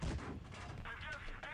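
A HESH tank shell striking a T57 Heavy's grille in World of Tanks Blitz, one heavy booming impact with a short rumbling tail, faint and distant-sounding, under quiet talk.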